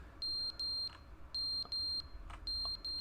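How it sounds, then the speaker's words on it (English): A smoke alarm in The Stanley Parable video game gives its low-battery warning: short, high electronic beeps sound in quick pairs, repeated several times at a moderate, fairly faint level. "Oh, the fire alarm's battery died."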